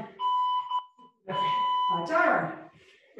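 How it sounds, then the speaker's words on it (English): During a cardio and strength workout, a timer alarm sounds in two bursts of steady electronic beeping, heard close and clear, while a person talks over the second burst. "My timer."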